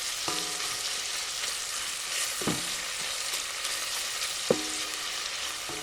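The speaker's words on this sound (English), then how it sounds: "our goal is to cook this meat until it's browned up" Chunks of beaver meat brown in a hot pan for a woodsman's stew, a steady loud sizzle filling the background with a few sharp clinks of a utensil against the pan, no voices.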